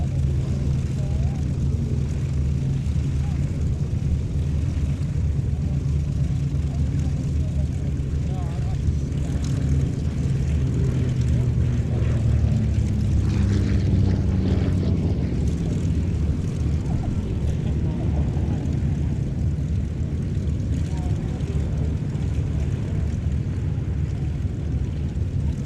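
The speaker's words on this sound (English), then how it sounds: "Absolutely lovely aircraft to watch and to listen to with that Pratt & Whitney twin Wasp radial engine" Propeller aircraft with a Pratt & Whitney Twin Wasp radial engine at an air show, its steady low drone holding throughout and swelling slightly mid-pass, with people talking faintly beneath.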